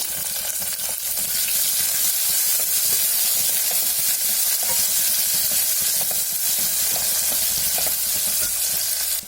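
Masala fries in a pan with a small tomato added, making a loud, continuous close sizzle with light stirring scrapes throughout, while being cooked for a sprouted green gram and ridge gourd palya.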